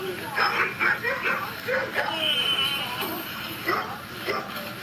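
A police dog barks repeatedly in short bursts during a traffic stop for window tint, close and loud, mixed with whimpering and yips while people talk over it.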